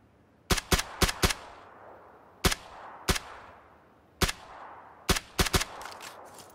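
Gunfire in a video game, sharp loud shots in short bursts of two to four with gaps between them, and no talk over them.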